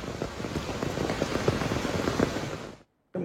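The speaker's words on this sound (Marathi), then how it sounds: "मुसळधार पावसाचा फटका आणि गुडघाभर पाणी साचलेलं आहे" Heavy monsoon rain pouring down on a flooded road in Kalyan, a dense steady hiss of drops with scattered spatters, cutting out abruptly near the end before resuming briefly.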